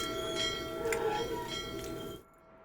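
Bell ringing in the video game Syberia, a bright sustained metallic tone with ringing overtones that swells a few times over an ambient game background, then cuts off abruptly near the end.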